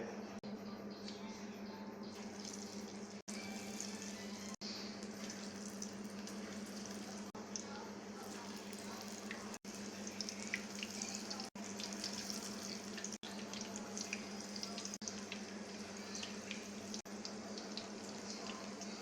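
Beef pakoras fry in hot oil with a steady, close bubbling sizzle throughout, broken by a few brief clicks and no talking.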